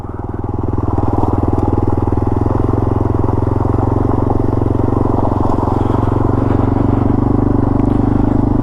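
A Yamaha TW200 motorcycle on tubeless tires rides up a deep gravel trail, its close single-cylinder thrum swelling in the first second, then holding loud and steady throughout, with no talking.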